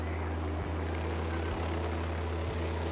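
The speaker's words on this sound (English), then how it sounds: "Helicopter inbound." Helicopter approaching in the Ghost Recon Wildlands video game: a low, steady rotor drone with a faint periodic thump roughly once a second, fairly quiet and alone.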